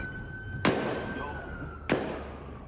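Two sharp, loud gunshots fired more than a second apart during an active-shooter incident near Emory University in Atlanta, each a sudden crack that fades quickly over a steady background hum.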